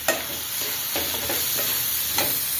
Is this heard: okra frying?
yes